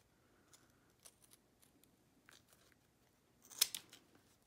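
Scissors snip through embroidery ribbon and stabilizer while an in-the-hoop Linzer cookie ornament is trimmed, giving a few faint, close clicks and cuts followed by one sharper, louder snip near the end.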